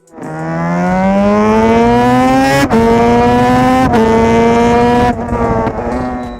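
A Yamaha RZ500 two-stroke motorcycle engine revs loud and close, pitch climbing steadily through brief gear-change dips, with a raspy, buzzing tone.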